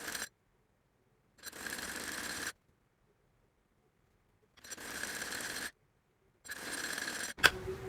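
Domestic sewing machine stitching the side seam of a cotton baby frock, running in three separate bursts of steady whirring with quiet pauses between, then a sharp click at the end.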